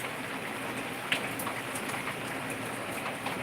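Dense, steady downpour of heavy monsoon rain in Nanded district, Maharashtra, falling continuously since the night, hissing continuously, with occasional louder drops striking a nearby surface.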